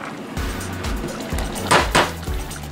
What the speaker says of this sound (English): remove the water from the pasta.